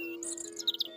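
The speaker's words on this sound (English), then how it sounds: "the songbirds of the day" Songbirds chirp in a quick, faint flurry of high tweets over a soft steady tone, all within about a second.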